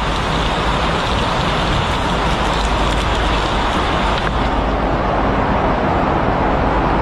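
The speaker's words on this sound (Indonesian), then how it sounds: "di tier 1 yang bagian bawah dia masih keguyur sama air hujan" Heavy rain pours steadily onto the lower first-tier stands of Jakarta International Stadium, a dense, loud, continuous wash of falling water with no talk.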